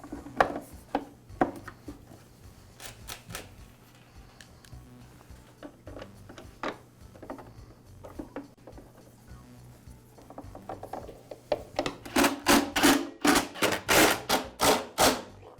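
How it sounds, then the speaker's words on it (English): Plastic motor cover being fitted back onto a Husqvarna backpack blower during a repair, with a run of sharp clicks, snaps and ratcheting knocks, sparse at first then a dense, loud burst of rapid clicking near the end. "And now reinstall the motor cover."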